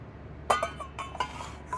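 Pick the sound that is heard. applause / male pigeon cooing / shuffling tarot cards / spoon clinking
spoon clinking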